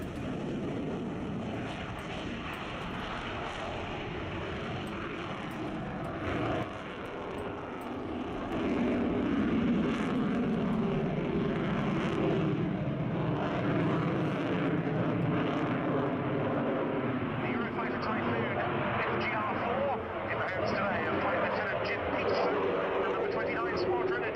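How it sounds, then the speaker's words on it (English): Fast jets fly over the Yeovilton air show, a broad engine roar that swells louder partway through and holds steady, mixed with distant crowd and background noise. "it's those Fast Jets from a couple of years ago from Yeovilton"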